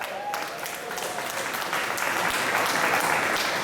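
An audience at the British Blues Awards 2013 applauds, a sustained dense round of clapping that holds steady and swells slightly toward the end, with no talk over it.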